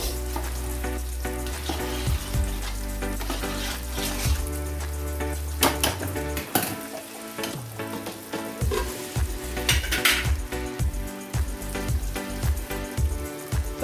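Prawn curry with mango sizzling and frying in a pot on a stove, a steady close crackle with intermittent stirring knocks and bubbling throughout, no voices.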